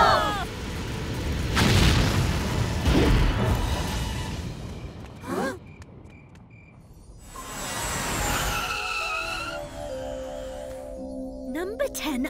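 Cartoon rocket blasting off in a children's counting show, a rumbling whoosh and booming roar swelling then fading, with chirpy sound effects and talking voices around it.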